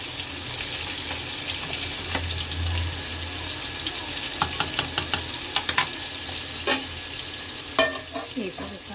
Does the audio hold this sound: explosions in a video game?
no